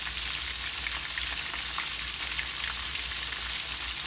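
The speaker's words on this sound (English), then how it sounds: "I'm gonna go ahead and let these fry up" Pieces of conch fry in hot oil with a steady, dense sizzle, a continuous crackling hiss that holds at an even level throughout with no voices.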